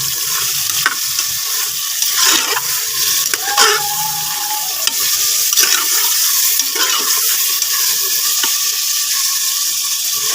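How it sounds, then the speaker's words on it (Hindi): Goat or mutton meat sautés in a pan for karela gosht, a loud continuous sizzle and spatter with a spoon scraping and stirring against the pan in repeated strokes. "इसमें गोश्त ऐड कर देंगे। इसको भी हम ना सोते कर लेंगे।"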